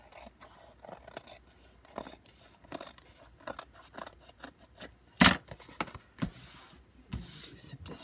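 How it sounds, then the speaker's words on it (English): Scissors trimming paper for a craft project, a series of soft snips and light scrapes with one crisp loud cut in the middle, close up and with no voices. "Just trim this off down here."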